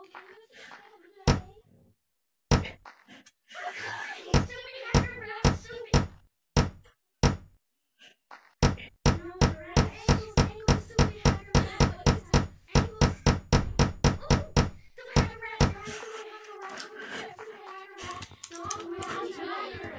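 Hammering in the Gorilla Tag VR game: sharp hard knocks, first scattered, then a rapid steady run of strikes, while children's voices chatter and call over and around them.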